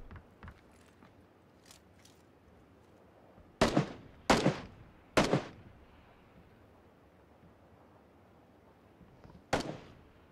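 Gunfire in a PUBG battle royale match: a sparse string of sharp, cracking shots, several spaced a second or so apart and one more after a pause, ringing out over a low, steady game-world background.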